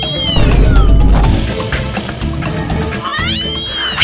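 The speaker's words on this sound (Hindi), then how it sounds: "बिल्ली की आवाज कैसे आ रही है? ये पुष्पा जी का रिंगटोन है" A cat-meow phone ringtone rings out in repeated rising and falling meows, loud and close, over a busy background of clatter and voices.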